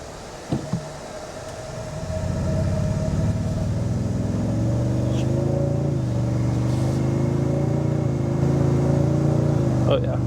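A 2025 Toyota Tundra 1794 full-size pickup with a smooth-shifting 10-speed gearbox pulls away and accelerates, its engine drone rising steadily and holding loud and close after a couple of faint knocks at the start.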